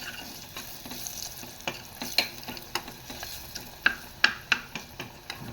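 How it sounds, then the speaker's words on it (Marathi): Garlic being sautéed in ghee in a small pan, a soft continuous sizzle broken by short crackling pops and spoon taps, close and fairly quiet, no voices. "लसूण छान तुपावर परतून घेते मी."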